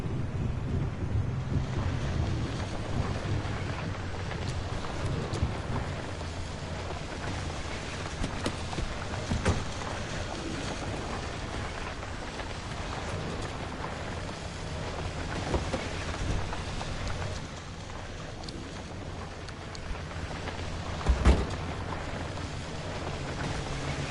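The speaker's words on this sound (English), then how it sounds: "I just want to see the storm come in so I can see which way it's blowing." Approaching storm outdoors beside a building and a parked car, with steady gusting wind buffeting the microphone, a low rumbling undertone and a brief louder thump near the end.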